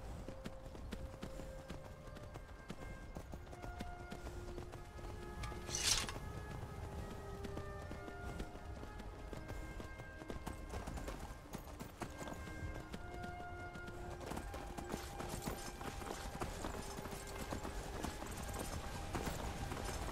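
Horse hooves clip-clopping in a steady rhythm during a ride in the Skyrim VR video game, continuous at moderate level with other game sounds behind.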